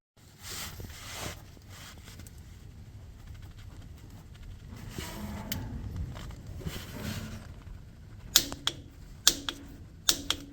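Torque wrench tightening a bolt to 39 newton meters during a transmission fluid service on a Lotus Exige V6: low rustling and handling noise, then several sharp, close metallic clicks near the end.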